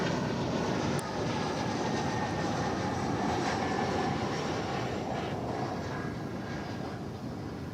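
An American Eagle regional jet flies at DFW airport, its engines giving a loud, steady roar that holds throughout with no voices.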